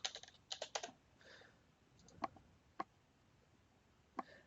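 Keystrokes on a computer keyboard while a long password is entered: scattered quick clicks in short bursts with pauses, close and fairly quiet, no voices.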